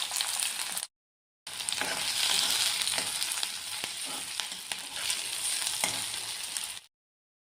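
Chopped onion and green chili fry in hot oil with popped mustard seeds for a leafy vegetable stir-fry, giving a continuous close sizzle with occasional stirring scrapes, framed by short silences at the start and end.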